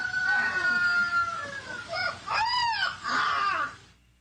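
A small puppy howls in a rising, wavering crow-like call, imitating a rooster; several drawn-out tonal cries follow one another closely and loudly, with a faint rooster crow at the start.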